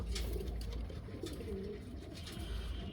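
A pair of imported pigeons coo softly and fairly close, with low throaty calls over a faint background hum.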